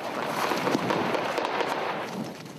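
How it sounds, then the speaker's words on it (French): Gunfire in combat in Mali rattles as a dense, continuous crackle of distant shots, loud and noisy throughout, with no clear gaps between reports. "Les tirs reprennent."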